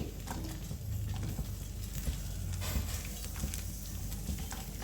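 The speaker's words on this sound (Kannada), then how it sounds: "ಶುಂಠಿ, ಚಕ್ಕೆ, ಲವಂಗ, ಬೆಳ್ಳುಳ್ಳಿ, ಗೋಡಂಬಿ ಎಲ್ಲ ಲೈಟ್ ಬ್ರೌನ್ ಆಗೋವರೆಗೂ ಹುರ್ಕೋಬೇಕು ಎಣ್ಣೆಲಿ." Chilies, pepper, onion, ginger and whole spices fry in hot oil in a home kitchen pan, giving a steady low sizzle with light stirring and scraping throughout, with no talk.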